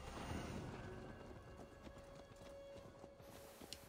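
Horse hooves clip-clop in Assassin's Creed Valhalla, a steady quick trot of hoofbeats at moderate distance over a game soundscape, lasting about four seconds.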